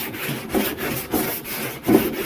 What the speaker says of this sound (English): once you done sanding that thing, kind of use a 80 grit too